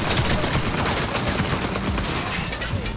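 Dense, continuous gunfire in the video game Cyberpunk, a loud unbroken barrage of rapid shots layered with crackling impacts, filling the whole stretch without pause.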